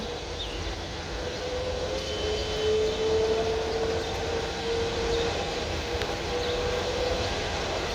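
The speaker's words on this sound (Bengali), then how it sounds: "বিমানটি ছেড়ে দিল ফুল স্টার্ট দিয়েছে ইঞ্জিনটি" An airliner at Dhaka airport throttles up to full power for takeoff, a loud, steady engine roar with a whining tone that rises and falls, heard continuously from a distance with no talking.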